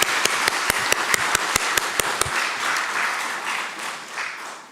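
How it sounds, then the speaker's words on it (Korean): A church congregation claps during a Sunday service to welcome a newly registered member, starting with a few sharp, evenly spaced claps that swell into a sustained round of applause before fading. "우리 박수로 환영하시도록 하겠습니다"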